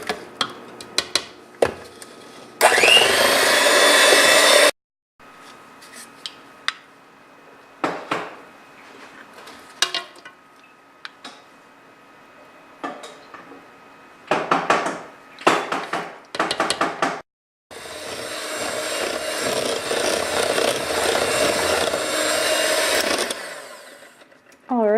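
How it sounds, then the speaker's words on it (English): Cake batter with butter and vanilla being mixed until light and foamy, heard as loud bursts of steady broadband whirring that start and stop, mixed with clinks and knocks of utensils and dishes. "And then mix them together until light and foamy."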